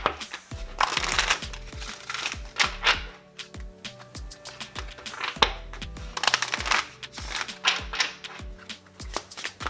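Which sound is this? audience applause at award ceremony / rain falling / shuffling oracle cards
shuffling oracle cards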